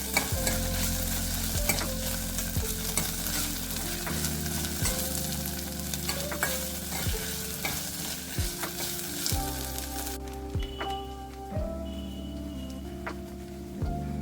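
Ginger-garlic paste sizzles and fries steadily in a pan while a utensil scrapes and stirs at intervals, with a few metallic clinks.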